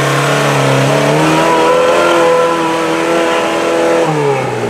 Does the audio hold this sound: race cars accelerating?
yes